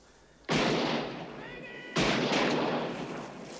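Two loud rifle shots in a western gunfight scene, each a sharp crack followed by a long echoing rumble off the rocks, spaced about a second and a half apart, with faint voices behind.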